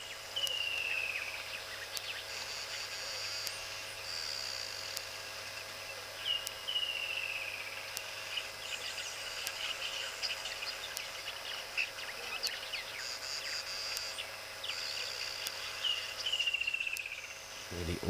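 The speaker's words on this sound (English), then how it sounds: "Lovely to hear all the different kingfishers and cuckoos." Wild birds call repeatedly over a steady, continuous insect chorus in a nature setting, with clear descending calls and chirps of kingfishers and cuckoos recurring every few seconds at moderate distance.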